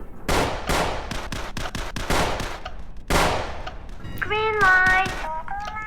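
Rapid bursts of gunfire from a Squid Game guard video game crack in quick sharp volleys, a pause, then more shots, followed by a bright electronic tonal jingle near the end.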